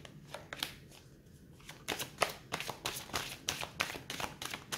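Tarot cards being shuffled and drawn for a Capricorn reading: a run of crisp, close card riffles and flicks, loosely rhythmic and growing busier after a short quiet stretch, with no speech.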